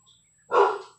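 A pet dog lets out a single sharp bark indoors, loud and close, rising abruptly after near silence and fading within half a second.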